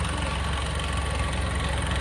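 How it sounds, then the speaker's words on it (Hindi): Motorbike engine idling outdoors near a village crossroads during a wedding procession, a steady low rumbling putter with fine rapid pulsing, moderately close and unbroken, with no talk over it. "तो कोमल जा रहे हैं बाइक पे बैठ के"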